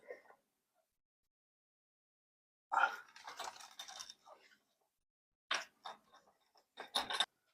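Screws being backed out on a garage door spring make quiet bursts of mechanical scraping and ratcheting, with a short tick at the start and then two longer rasping runs separated by silence.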